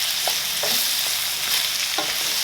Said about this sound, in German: wir braten Paprika und Knoblauch an und geben noch einen guten Esslöffel Tomatenmark sowie die Gewürze hinzu